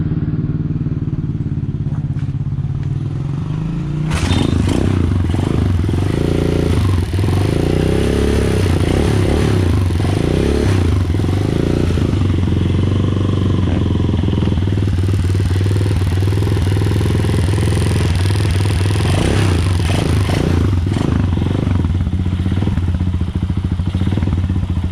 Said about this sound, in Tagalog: Paandarin natin yung battery operated na CDI dito sa motor na to.